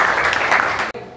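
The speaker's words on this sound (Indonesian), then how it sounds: "Tepuk tangan." A classroom audience claps in a brief burst of dense applause that cuts off abruptly near the end.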